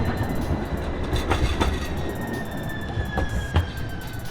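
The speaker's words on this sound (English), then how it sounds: "as this train rolls by" A passing train rolls by steadily close up, with wheel squeal tones drawn out across the rumble and occasional clanking rail joints, loud and continuous with no voices.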